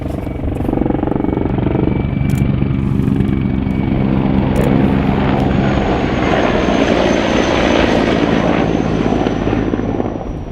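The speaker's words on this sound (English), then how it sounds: "That helicopter's really low." An attack helicopter roars low overhead near Donetsk International Airport during battle, its loud, steady rotor and engine noise filling the whole stretch without letting up.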